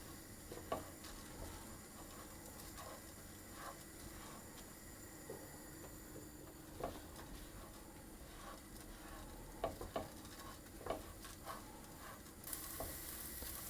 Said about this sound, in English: I'm going to stir that around. To get that coated.